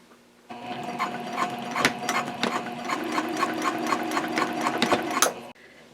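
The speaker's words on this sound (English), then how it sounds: "Now I'm sewing the connector with the strap" A sewing machine stitches a D-ring connector onto a fabric sling strap with a 3.0 stitch length, running in a rapid, even mechanical rattle close up for about five seconds before stopping abruptly, with no one speaking.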